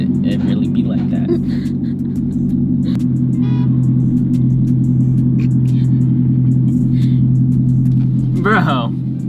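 A car in performance shift mode rumbling steadily at close range, its engine droning loudly throughout with a rising note near the end, while people talk over it.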